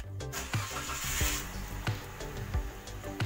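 A car engine cranks and starts with the ignition key after an aftermarket push-button start kit has been wired in; loud, steady engine noise with a run of regular low thumps throughout.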